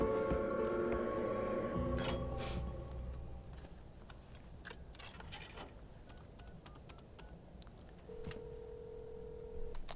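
A telephone in the Devil May Cry 5 video game gives a short electronic ring and tone. It is faint and sits under game music and scattered clicks, with a steady beep near the end.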